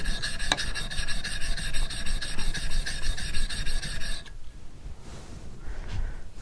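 Convex bevel blade being sharpened to raise a burr, steady rhythmic rasping strokes of steel on a stone for about four seconds, then a softer, quieter rub trailing off.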